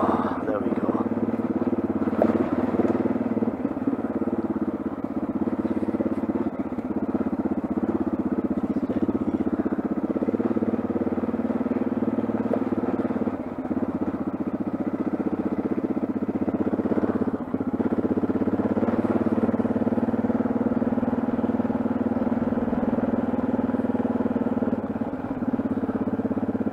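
A Yamaha XT 660Z Tenere motorbike engine drones continuously while riding off road near Holmfirth, a steady close, rumbling hum with slight dips in revs throughout.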